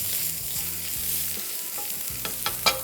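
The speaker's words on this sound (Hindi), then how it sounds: "अब हमने थोड़ा सा इसको फ्राई करना है, हल्का से चर्बी मेल्ट होगी" Meat for Turkish kebab sizzles steadily in hot oil as its fat melts, a dense continuous hiss with a few sharp stirring clicks and scrapes near the end.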